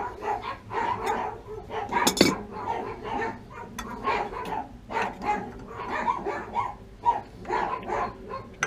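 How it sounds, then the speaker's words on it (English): Several dogs next door bark over and over, some distance away, with sharp yips and a clatter in between. "lot of dogs next door."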